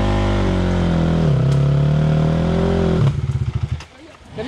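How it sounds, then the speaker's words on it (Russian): A stuck motorcycle engine revs hard and steadily, then drops into a sputtering, pulsing idle, loud and close, with people talking over it. "Давай, давай, газуй. Давай еще. Сядь на мотик, сядь на мотик."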